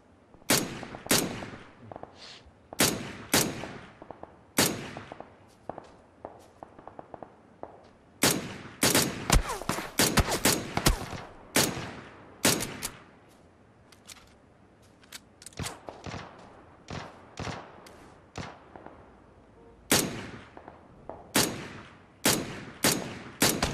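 Gunfire in the video game PUBG played on Xbox One X, with sharp single shots and rapid bursts crackling irregularly throughout, some loud and near, others quieter and further off.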